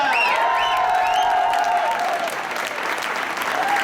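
A crowd at a solidarity rally applauds a band launching its album, dense clapping mixed with whoops and cheers, with whistled or sung tones gliding above the clapping early on.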